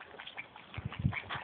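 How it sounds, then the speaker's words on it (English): Ducks near a cave quack in a few soft, low bursts, faint and close together against quiet background noise. "All kinds of ducks."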